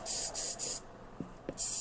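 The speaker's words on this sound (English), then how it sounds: "So we spray it for a few seconds, and then we allow the fluid to dry" Cleaning fluid sprayed onto a fragile engine sensor from a 2005 Mazda 3, in three quick close hissing bursts followed by a pause with a couple of faint taps, then another burst at the end.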